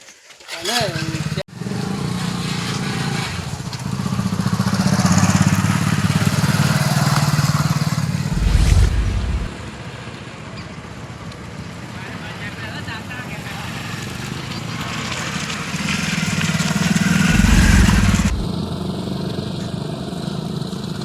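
A motorcycle rides along a road, its engine rising and falling in two louder surges of revving, with a steady running drone in between. Voices talk over the engine at times.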